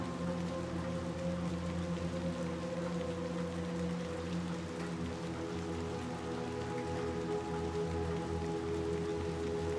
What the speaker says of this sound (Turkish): Hala mı yağmur yağıyor ya?